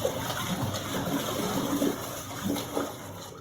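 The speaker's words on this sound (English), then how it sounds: "here she is just splashing around" A dog splashes around in an outdoor pool, sloshing and churning water in an irregular burst of nearby splashes.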